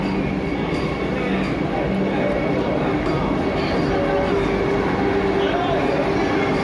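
A Vande Bharat express train pulls into a station platform, a loud, steady rumble and rail hum that fills the whole stretch, with voices chattering over it.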